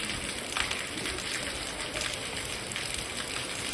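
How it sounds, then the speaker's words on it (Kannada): Heavy rain pours down in a steady, dense hiss, an unbroken wash of falling water with no voices over it. "ಮಳಿ ನೋಡ್ರಿ ಹೆಂಗ್ ಬರಾಕ"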